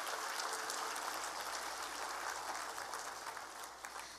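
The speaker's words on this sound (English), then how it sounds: "can we give a clap to all of you today?" Audience clapping for a team at a direct-sales success event in Manila, a continuous, faint wash of many hands throughout, distant and even, with no talk.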